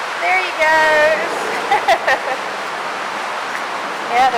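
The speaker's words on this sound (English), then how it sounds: "the river is a little bit high" The Boise River near Eagle, Idaho, is running high, giving a steady broadband rush of flowing water. A person speaks over it in short bursts.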